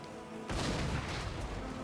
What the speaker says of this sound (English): Arming the cannon.